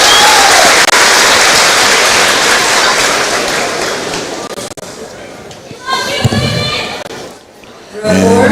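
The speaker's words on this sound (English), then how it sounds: "As they call out applause for that row of graduates" A large crowd applauds a row of graduates at a high school graduation ceremony in 2024, with loud, dense clapping that fills the room and then fades away, and someone speaking over the tail end.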